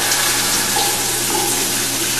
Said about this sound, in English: Cold water will run out of the shower head until the hot water arrives.